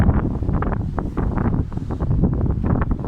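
Very strong wind buffets the microphone outdoors among debris and a fallen tree, loud rumbling gusts pulsing continuously with no voices.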